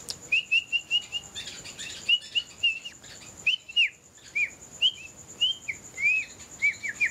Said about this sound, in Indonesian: Nah itulah burung kami ya, alhamdulillah ya sudah disapa nih.